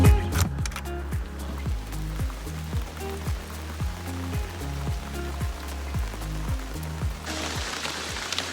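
Rain patters steadily on the roof of an RV parked on a cold, wet day, heard from inside as a close, continuous drumming with regular low thumps of heavier drips.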